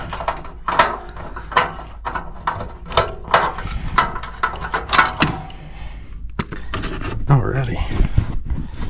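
A screwdriver backs out the last screw on an old furnace panel, a run of quick ratcheting clicks in short bursts, close up, ending with a brief clatter and someone talking.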